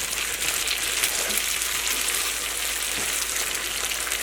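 Onion and sauce for chilli chicken fry in a pan with a steady, loud, close sizzle and hiss that stays even throughout, with soft stirring scrapes mixed in.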